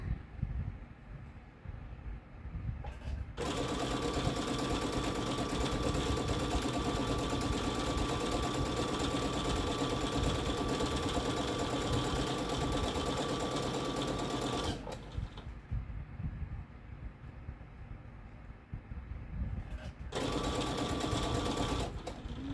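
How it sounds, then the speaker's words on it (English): A sewing machine runs in long continuous stretches as it stitches around the edge of an apron. Its steady whirring motor is close and fairly loud, with short pauses between runs. "We're going to just sew all the way around here."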